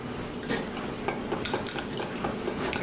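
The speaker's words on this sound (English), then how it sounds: "we're going to give it a little stir." A spoon scrapes and clinks against a bowl, stirring a melted butter and cheese mixture in quick, irregular strokes, close and moderately quiet.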